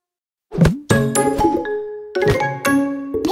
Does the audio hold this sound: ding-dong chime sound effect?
yes